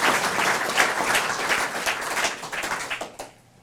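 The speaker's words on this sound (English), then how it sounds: "We'll give Sharon a round of applause." Conference audience applauding a speaker, Sharon, after her talk at a science and innovation event, a dense burst of clapping that holds steady, then thins and tapers off near the end.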